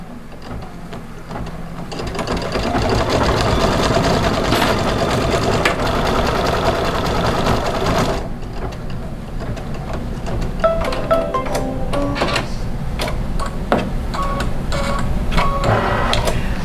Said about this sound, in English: it is going to do the final satin stitch around the moon